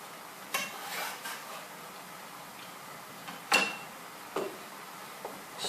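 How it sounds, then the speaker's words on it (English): Spinach being stirred with creamed coconut in a pan, a low sizzle under a handful of sharp utensil knocks and scrapes against the pan, close and with no talking. "Stir that in."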